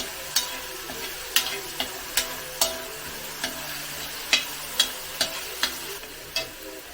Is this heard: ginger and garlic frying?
yes